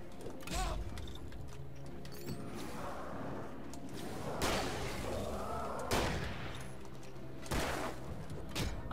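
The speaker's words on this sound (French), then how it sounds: "Fusil de chasse." A hunting shotgun fires in the video game Alan Wake, a few sharp blasts spaced several seconds apart over quiet game ambience, the shots fairly faint overall.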